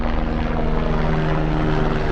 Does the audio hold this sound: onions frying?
no